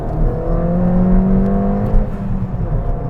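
A Ford Fiesta ST engine fitted with an induction kit revs steadily up close, its rising harmonic drone holding loud and continuous for about three seconds with no talk.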